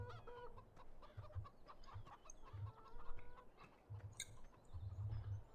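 Hens in the Farming Simulator 2017 video game give soft, scattered clucks and a few higher squawks, a small flock heard close but faint, no voices over them.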